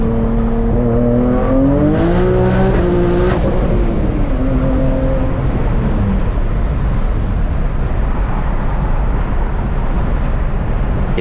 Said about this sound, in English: We do a little quick pull for you guys.